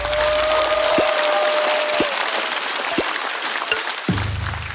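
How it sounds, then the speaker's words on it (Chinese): An audience at a stand-up comedy show applauds comedian Xiaopa with dense, sustained clapping that fills the room and holds throughout, with a few low thumps. "再次掌声送给小帕。"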